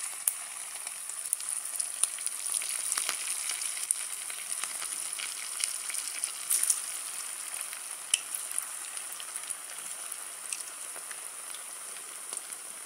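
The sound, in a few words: medu vada frying in oil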